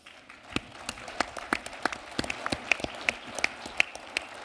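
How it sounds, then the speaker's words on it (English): Sparse, scattered clapping from a conference audience at a 2014 plenary session on green jobs, with individual claps popping out distinctly in an uneven rhythm rather than a dense roar, fairly close and moderate in level. "Makes me nervous when you guys clap for me."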